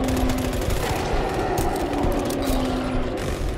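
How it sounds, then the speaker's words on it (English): Automated turret gunfire in the sci-fi shooter GTFO, a dense, continuous rattle of rapid shots that stays loud and steady throughout. "I'm gonna give you a turret, another turret."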